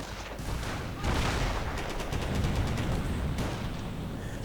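Dense, continuous battle noise from the Company of Heroes strategy game, with rapid gunfire and grenade blasts layered into a constant roar. There is no break in the noise and no one speaks.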